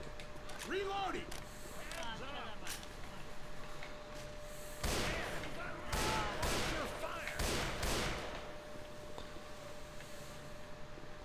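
Left 4 Dead 2 gunfire erupts in several loud broadband bursts midway, surrounded by game ambience and frequent overlapping talk from players.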